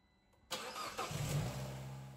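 Car engine cranking and catching after an engine bay cleaning, a sudden start followed by a steady mid-pitched idle that holds under a faint high whine, heard alone and up close.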